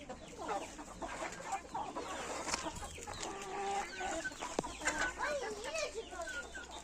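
Young chickens cluck and chatter continuously at close range, several birds overlapping with scattered squawks and a brief sharper call.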